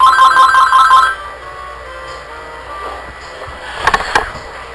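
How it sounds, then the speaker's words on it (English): Telephone ringing loudly and close in a room, a rapid warbling electronic ring lasting about a second before cutting off, followed by quiet background and a few faint clicks. "Goddamn phone calls."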